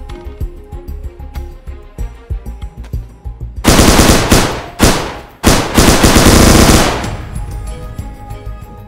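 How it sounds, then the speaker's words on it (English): Gunfire in the video game DayZ during a clan base raid: scattered lighter shots give way to loud, sustained bursts of automatic fire, close and dense, with a brief break between bursts. "What is bro shooting at now though?"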